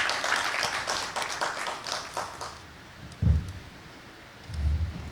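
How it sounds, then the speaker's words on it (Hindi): Clapping from a lecture hall audience at a memorial lecture event, moderately loud for the first couple of seconds, then fading into quiet room noise with a few soft thumps. "उनके लिए एक बार जोरदार तालियां बजाइए।"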